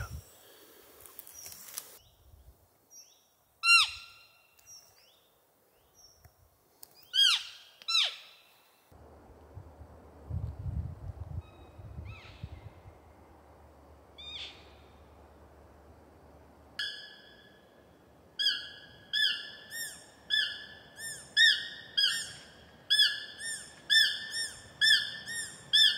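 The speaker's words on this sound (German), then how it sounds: "dann warten wir jetzt so lang, bis die Vögel aufhören" Forest birds call repeatedly during an early morning hunt in drizzle, sharp chirps and whistles coming in bursts, then a steady run of rhythmic high calls toward the end, with low rustling and rumble in the middle.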